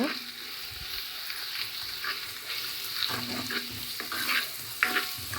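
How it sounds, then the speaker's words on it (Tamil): Onions and Jaffna curry powder frying in oil for a crab curry, a continuous close hiss and sizzle with occasional stirring scrapes, moderately quiet, no talk. "வெங்காயத்தோடு சேர்ந்து தூளும் நல்ல எண்ணெயில் வதங்கி விரட்டும்"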